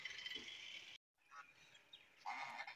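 Village ducks walking in a line along a road give scattered honking quacks, fairly faint and somewhat distant, with a brief moment of silence partway through before the calls resume.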